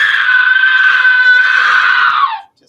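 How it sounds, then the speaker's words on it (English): A single sustained scream effect for a haunted attraction show, loud and steady for over two seconds before cutting off abruptly, heard alone with no talk. "you can do that with the scream then too"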